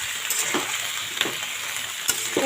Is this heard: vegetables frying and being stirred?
yes